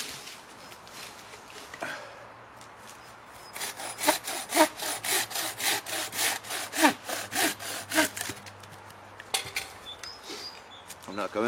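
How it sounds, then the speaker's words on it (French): A frame bow saw cuts through wood outdoors, with a steady series of close, loud back-and-forth rasping strokes in the middle, then a few final strokes after a pause. "ça sera mieux avec une scie de ce type."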